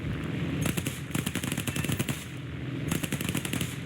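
Rapid machine gun fire from a P-38L-5-LO fighter in the War Thunder air combat game, loud sustained bursts of fast rattling shots in three volleys over a steady engine drone.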